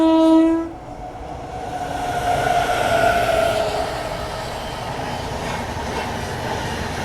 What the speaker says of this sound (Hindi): और ये मुझे विक्रमशिला एक्सप्रेस लग रही है।